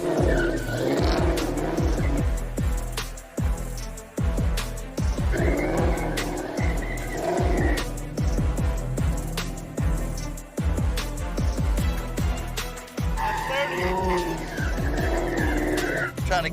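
A Ford Mustang spins in a tight circle, its engine holding a steady loud drone with repeated rises and dips while the tires squeal and skid continuously throughout.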